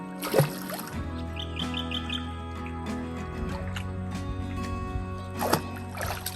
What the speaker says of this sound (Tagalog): Pakinggan nyo guys yung ano, uni ng ibon.